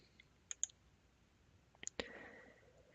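A pause button gets a computer mouse click. A few faint, sharp clicks come close together, then one louder click, all alone in a quiet room.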